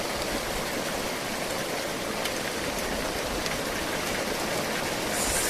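Heavy downpour driven by strong hurricane-force wind in Sevastopol, a dense, loud, continuous roar of rain and rushing air with no pauses, rising slightly at the end.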